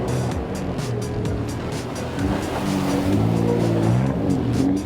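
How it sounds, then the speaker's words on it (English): A Dodge Challenger is driven on a racetrack, its engine giving a loud, steady rumble that rises and shifts in pitch as it accelerates, close by, with no speech. "You're taking the Challenger through its paces on the racetrack in the Challenger Challenge."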